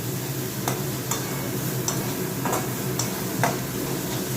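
Masala spice paste fries in oil in a pan while being stirred, a steady close sizzle broken by sharp scraping clinks of the spoon against the pan every half second or so.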